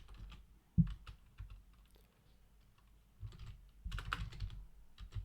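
Keys clatter softly on a computer keyboard in short irregular bursts with brief pauses, close but quiet, with no talking.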